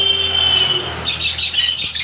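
Lovebirds in a bird shop give a chorus of shrill, close squawks and chirps over a steady background hum, with no one speaking.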